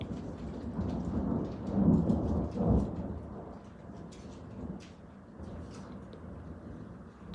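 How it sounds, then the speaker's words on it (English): Low rolling thunder rumbles through a storm over steady rain, swelling into two heavier peaks early on before easing back to a softer drumming of rain. "There goes the thunder."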